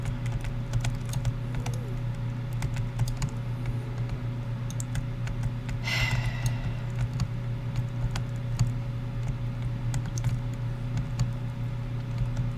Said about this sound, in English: that noise is gonna get annoying, so I'm gonna have to disable the portal